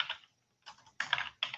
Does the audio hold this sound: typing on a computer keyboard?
yes